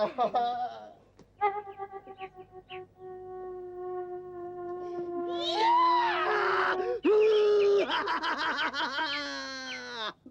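A boy's drawn-out, wavering scream rises loudly over several seconds, breaking into sharp cries, after a few short vocal sounds near the start.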